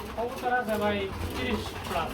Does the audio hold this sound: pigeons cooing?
yes